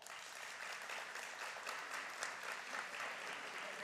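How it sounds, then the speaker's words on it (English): Graduates at a community college commencement applaud in a continuous, fairly distant wash of clapping, even and sustained, with no voices rising above it. "By a round of applause, how many of you are planning to transfer to a 4-year school in the fall?"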